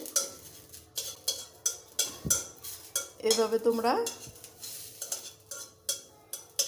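Dried chillies and ginger fry in a pan while a spoon stirs them, giving rhythmic metallic scrapes and clinks over a faint low sizzle; a voice speaks briefly in the middle.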